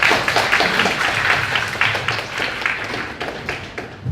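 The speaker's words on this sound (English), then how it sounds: "Big applause once again to Professor Tema." Sustained applause from an academic conference audience after a lecture, dense steady clapping that gradually fades toward the end.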